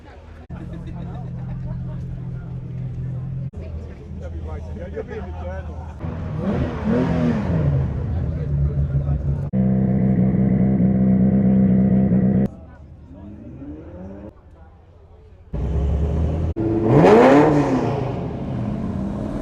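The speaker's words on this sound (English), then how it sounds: "All the cars coming down right now, as you can see." Supercars roll past at a supercar festival, engines revving and accelerating loudly in several close passes, with crowd babble in the background.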